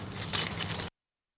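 A bunch of car keys jangles briefly and close up as it is handed over, a short metallic rattle lasting under a second before silence.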